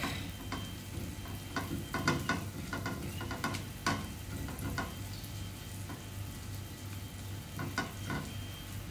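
Garlic sizzles and crackles steadily in a hot pan for a cabbage and egg stir fry, with sharp spitting pops scattered over a continuous frying hiss and a low background hum.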